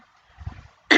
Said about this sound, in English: let me just clear my throat for a minute